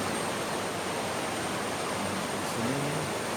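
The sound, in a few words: rushing current of the Asahan river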